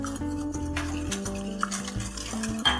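Mayo cupcake batter being mixed in a bowl, with repeated scraping and stirring strokes heard close, alongside a steady tonal hum.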